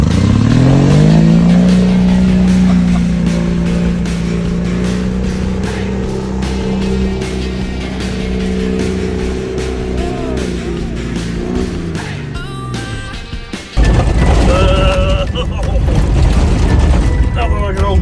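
An old truck engine shudders loudly and close by in a rough, steady low rumble. Near the end it cuts out briefly and then resumes with a harsher clatter.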